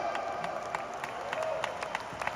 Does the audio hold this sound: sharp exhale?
no